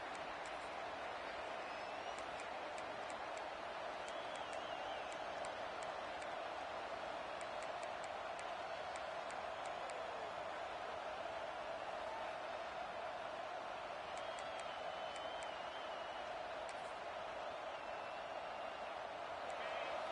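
Steady roar of a packed stadium crowd at a college football game between Auburn and Arizona State, a dense continuous wash of cheering and chatter with scattered whistles rising now and then, constant throughout.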